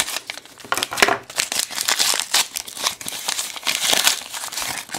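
A foil package of Champions League football trading cards is torn and crinkled open up close, loud continuous rustling and crackling with sharp ripping bursts throughout.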